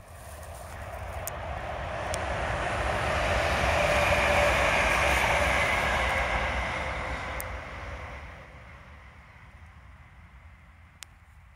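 Train passing along a busy railway line, a broad rumbling roar that swells to a peak mid-clip and then fades away, heard from trackside outdoors with no talking.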